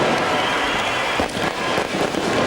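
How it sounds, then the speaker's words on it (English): Fireworks crackle and pop in a dense, continuous barrage at Headingley stadium just before kick-off of a 1997 rugby league match between Leeds Rhinos and Adelaide Rams, with bursts spread through a noisy crowd ambience. "Just delay there whilst all the fireworks go off here at Headingley."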